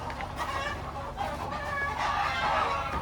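Country hens at a desi poultry farm cluck continuously from several birds at once, a dense overlapping chorus with no other sound standing out.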